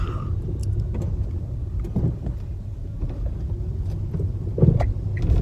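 A Nissan Leaf drives over a rough or gravel road, its suspension giving dull low knocks and thuds under a steady muffled rumble from inside the cabin, with a couple of stronger bumps near the end.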